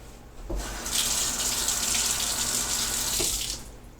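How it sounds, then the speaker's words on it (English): Water gushes steadily from a tap for about three seconds, starting and stopping with soft clicks, no voices. "let's run it under the water."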